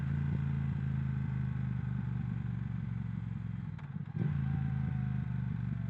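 A Triumph Thruxton 1200 motorcycle fitted with a Vance and Hines exhaust runs with a steady, fairly subdued engine drone and a deep low rumble, briefly dipping near the end before resuming.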